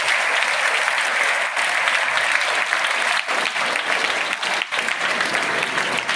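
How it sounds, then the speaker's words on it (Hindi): Loud, continuous applause fills a school hall at a Teacher's Day event, a dense, steady roar of clapping from a large audience with no talking over it. "उन सारे बच्चों को और उनको तैयार करने वाले शिक्षक शिक्षिकाओं को मैं धन्यवाद देता हूं और उनको जोरदार तालियों से हम लोग बधाई भी देंगे।"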